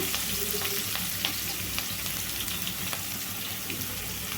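Sliced onions sizzle steadily in a hot pan after a pinch of salt, a dense continuous fry with occasional soft stirring clicks, close and fairly loud with no voices.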